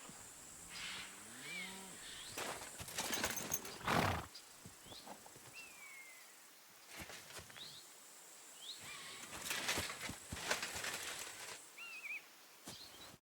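A grey horse in Kingdom Come: Deliverance II snorts and whinnies amid game sound effects, with hoof-like thuds and bird chirps scattered through a quiet outdoor ambience.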